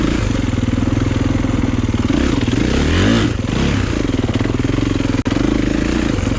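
A dirt bike engine roars loud and close throughout a ride, a constant rattling drone that rises briefly in pitch as it revs, with a short clatter near the end and no talking.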